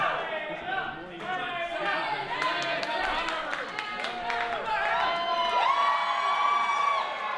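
Wrestling crowd at an Australian wrestling show cheering and chattering steadily, a dense mix of shouts and whoops with a long sustained call rising near the end, while a commentator talks over it.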